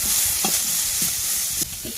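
Sliced onions hit hot oil in a pan, producing a constant close sizzle with several distinct knocks and scrapes of a spatula stirring, and no voices.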